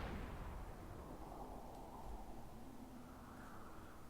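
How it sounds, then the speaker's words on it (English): Cannon fire from a tower wall in the fantasy strategy game Myth II: Soulblighter, heard as a steady, fairly quiet rumble of repeated booms under a low battle din, with no talk. "You can hear the cannon actually firing a lot more"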